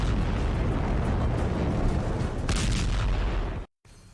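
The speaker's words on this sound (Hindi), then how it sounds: "ऐसे बम होते हैं जो न्यूक्लियर रिएक्शन की वजह से बहुत बड़े धमाके कर सकते हैं।" A nuclear bomb explosion sound effect: one long, loud, deep roaring blast that rumbles steadily for several seconds, then cuts off abruptly into silence.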